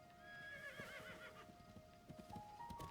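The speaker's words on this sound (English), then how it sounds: "Good horsey, you stay here." A horse whinnies with a rising, wavering call, then hooves clip-clop in rhythmic steps, quiet and near, in Zelda: Tears of the Kingdom.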